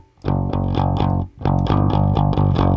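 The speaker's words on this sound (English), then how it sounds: "Got a bit of a distortion on there." An instrument run through an overdrive distortion effect plays chopped rhythmic notes, thick and buzzing, with a short gap before the gritty pattern resumes.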